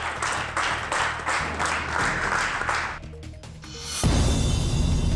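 Residents of a sealed-off coronavirus containment area in Bhopal clap to welcome an arriving medical testing team, a steady patter of many hands at moderate distance that fades out and gives way to a louder rumbling noise.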